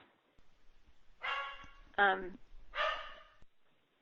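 A dog barks three times in short bursts, loud and close, with faint breathing and background noise between the barks.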